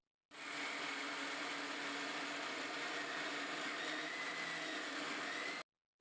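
A kitchen mixer grinder whirs steadily while grinding ragi idli batter, a continuous rough motor drone that starts abruptly, holds at an even level for about five seconds and then cuts off, with nothing else heard.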